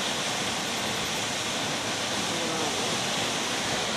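Water rushes continuously at a small river near the Kedung Kayang waterfall, a loud broad roar close by with no break.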